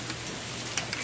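Steady rain falling outdoors during a run, a soft, even hiss with a few scattered droplet ticks, fairly quiet and brief, with no voices.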